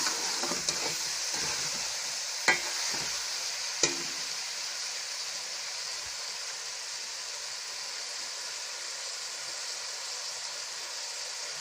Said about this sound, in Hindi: अब इनको हल्की आंच पे भूनेंगे